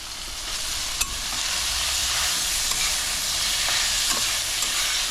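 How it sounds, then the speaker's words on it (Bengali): Large prawns being stirred into a sizzling village-style chingri bharta in a frying pan, with a steady bright frying hiss and a few scraping stir clicks, no talking. "আর এখন আমি এই চিংড়ি মাছটাকেও মিশিয়ে দেব।"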